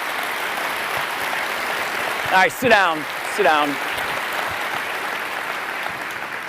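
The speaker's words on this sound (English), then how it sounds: "Give them a round of applause." A keynote audience applauds rebuild team members who have stood up beside the stage, a steady wash of clapping throughout with a voice briefly talking over it near the middle.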